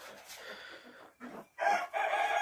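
A rooster crows loudly and close by in a backyard coop, accompanied by a hen that is a Cochin cross. The crow breaks into a couple of rising bursts with short gaps and ends in a long, strong final call.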